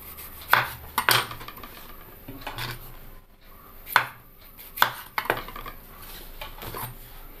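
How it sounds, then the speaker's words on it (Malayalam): Green tomatoes sliced lengthwise with a knife on a cutting board, a handful of sharp, irregular chops spaced apart, close and clear with no talking. "ഇനി നമുക്ക് ഈ തക്കാളി ഒന്ന് അരിഞ്ഞെടുക്കാം"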